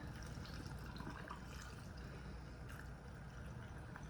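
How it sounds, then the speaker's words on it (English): Filtered water poured into a glass jar of pickles set up for fermenting, a steady continuous pour and trickle heard close up over a low background hum. "And then I have some nice filtered water. And they say you must use filtered water. So we're gonna pour that in."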